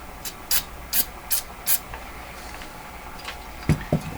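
Cleaner sprayed into a PYE Model 762 radio receiver: five quick, sharp hissing bursts in a steady rhythm, then a pause and two duller knocks near the end.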